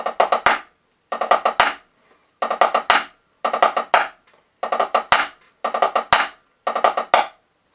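A drag rudiment played as a drum fill repeated in bursts, each a quick run of strokes ending on an accented hit, giving a rolling triplet feel, with short gaps between repeats.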